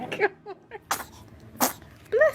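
A baby sneezes a few times in short bursts amid soft background noise, with adult voices murmuring faintly in between.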